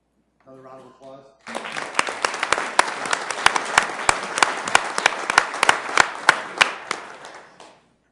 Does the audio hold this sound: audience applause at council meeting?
yes